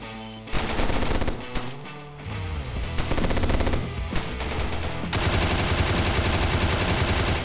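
Rapid automatic gunfire from MP5 and SPAS weapons in a Roblox Prison Life 1v1 match, dense and loud, bursts running almost continuously with brief gaps near the start and a steady stream through the final seconds, with game music or effects layered in.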